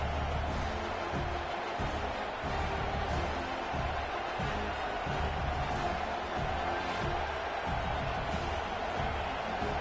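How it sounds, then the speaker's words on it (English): Crowd at an SMU college football stadium, a steady, dense roar that fills the air for the whole stretch, broad and continuous with no single voice standing out. "This crowd ready to make its presence known."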